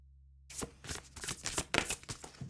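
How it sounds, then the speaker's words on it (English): A deck of oracle cards being shuffled close up, a quick run of soft riffling flicks and taps that starts abruptly after a moment of quiet and continues steadily. "Let me tip this down just so you can see me shuffle a little bit better."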